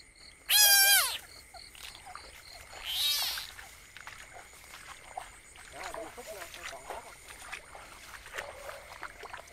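Frogs croaking at night during a nocturnal frog hunt, with rising trills and croaks up close, mixed with people talking nearby and faint insect buzz in the background.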